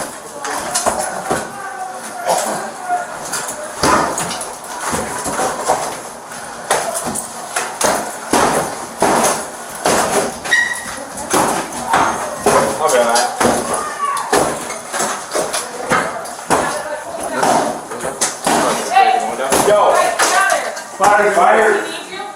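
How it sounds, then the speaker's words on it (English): During a hostage and fire incident, repeated heavy blows land as a firefighter breaks through a door or wall, irregular thuds and impacts under near-constant radio chatter and talking. "dude's in there breaking the door or the wall"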